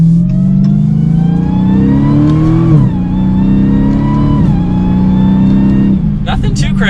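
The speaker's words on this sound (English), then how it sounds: "You can hear that supercharger whine." Dodge Challenger SRT Hellcat accelerating from second gear with light throttle, a loud steady engine drone carrying a rising supercharger whine, easing briefly near the middle before pulling again; a voice speaks over it at the end.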